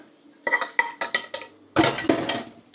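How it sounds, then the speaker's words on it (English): Spinach gets stirred into butter beans in a pot, with a quick series of close clinks and scrapes from the spoon against the pot followed by a louder cluster of stirring knocks. "I'm going to add our spinach to these butter beans"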